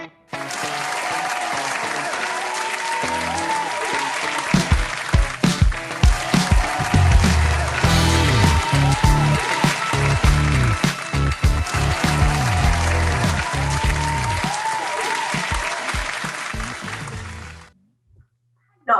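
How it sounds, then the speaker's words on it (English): An audience at a motivational speaking contest claps for a speaker coming on, a dense burst of applause that swells, holds steadily, then fades and stops near the end. "So let's give a big round of applause to Latifa Rhoualmi from Morocco."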